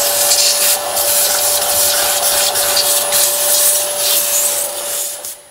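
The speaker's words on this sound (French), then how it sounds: "à l'aspirateur, continuez à aspirer les résidus qui se trouvent tout autour de l'appareil." A vacuum cleaner runs steadily and loudly, sucking up lint residue around a clothes dryer, with rubbing, scraping strokes of the nozzle across surfaces before it cuts off at the end.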